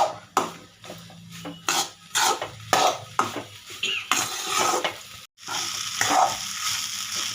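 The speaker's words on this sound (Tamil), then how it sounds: "சாப்பாடு போட்டு இந்த மாதிரி கிளறணும். கிளறி உப்பு பார்க்கணும்." Rice for mutton masala fried rice stirred in a hot pan, with steady frying sizzle and repeated scraping strokes of a spoon against the metal, close and fairly loud, with a brief pause near the end.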